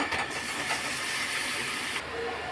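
Chicken pieces fry in hot oil with lightly browned onions, giving a loud, steady hiss up close that drops off sharply near the end, with no talk.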